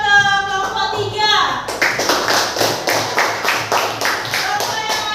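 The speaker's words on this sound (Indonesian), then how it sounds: "Oke, tepuk tangan buat kelompok 3." A classroom of children claps for a presenting group, a brisk, uneven patter of many hands after a teacher's voice, with some chatter mixed in.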